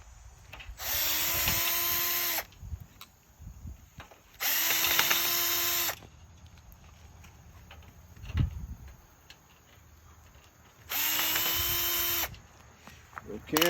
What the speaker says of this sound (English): let me get these other screws out